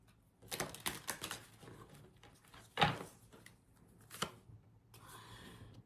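Rapid papery riffling of a deck of cards, several quick shuffle bursts with sharp snaps and flutters, close up with no talking.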